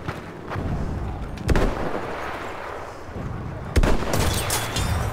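Battlefield 1 battle: two sharp, loud gunshots ring out about two seconds apart over a steady rumble of distant combat.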